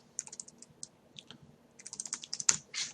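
Typing on a computer keyboard, a quiet, irregular run of light key clicks that thickens into a quicker burst toward the end, heard alone.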